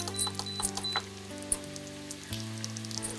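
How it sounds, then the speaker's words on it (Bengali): Chopped large onion frying in a pan over a raised flame, a steady crackling sizzle with scattered pops throughout, close and moderately loud, with no talk over it. "এবারে এটা কি বাদামি করে ভাজতে হবে একটুখানি, যাতে একটুখানি রংটা আসে।"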